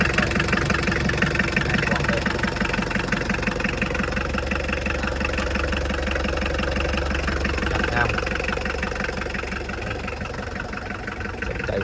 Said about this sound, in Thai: บอกเลยเสียงจักแห้งแน่นๆม้วนเลย